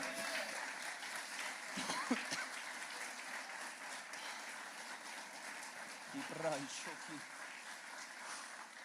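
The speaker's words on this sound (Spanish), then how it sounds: "Dale un fuerte aplauso al Señor." Church congregation at a Spanish-language sermon claps for the Lord, a faint, steady spatter of applause in a reverberant hall with a few brief voices rising over it.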